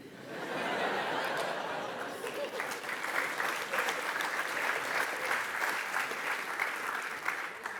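Lecture audience at ETH Zürich bursting into sustained applause with scattered laughter, a dense wash of clapping from a large hall that swells and holds steady throughout.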